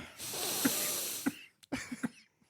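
A long, breathy inhale or exhale with a steady airy hiss, followed by a few short snorting breaths and faint clicks as it fades.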